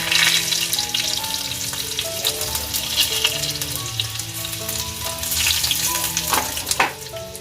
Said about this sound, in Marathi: जिरा घालते लसूण तेजपत्ता